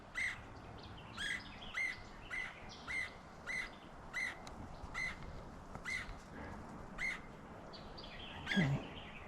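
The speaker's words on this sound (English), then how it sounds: "Is that a red-headed woodpecker noise?" A red-headed woodpecker gives a series of about nine evenly spaced, sharp, raspy calls, moderately near against a quiet outdoor background, ending with a slightly different squawk.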